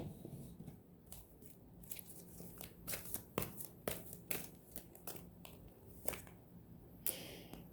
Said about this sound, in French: Je vais peut-être aller prendre quelques cartes supplémentaires de mon oracle ici